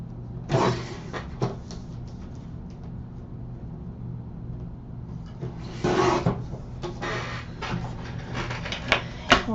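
Paper being trimmed to two inches for a summer shaker album craft project, with a few short scraping cuts near the start and again around the middle, close and fairly quiet against a low steady hum.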